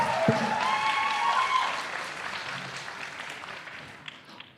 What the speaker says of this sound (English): Please give a big round of applause to Suki.